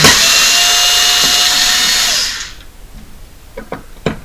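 Power screwdriver whirring loudly up close while unscrewing a plastic shroud from a Xigmatek Loki 2 CPU cooler mount, then cutting off, followed by a few faint clicks and handling taps.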